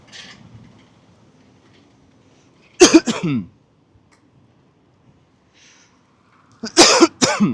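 Two separate bursts of harsh coughing, each a quick cluster of rough hacks, close to the microphone with quiet in between.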